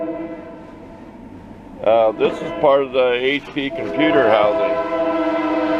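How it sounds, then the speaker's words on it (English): A coal train passes nearby, its horn holding a steady, sustained tone in the background while someone talks over it. "Welcome to the sound of the train going through"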